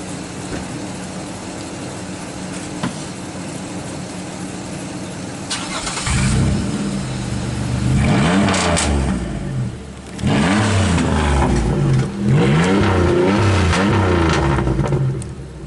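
A GMC-era car running with its muffler cut off and a resonator exhaust idles roughly, then revs hard in several loud, rising bursts that drop back between pulls, close and unmuffled.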